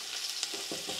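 Long-sliced onions drop into hot oil with fried spices for prawn biryani, producing a short burst of crackling sizzle close by, with no voices.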